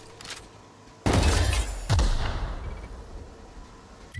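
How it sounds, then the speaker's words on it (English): Plasma launcher fired in The Outer Worlds on Supernova difficulty: two heavy blasts about a second apart, each a loud booming burst with a deep thump that trails off into a fading rumble. "Plasma launcher them"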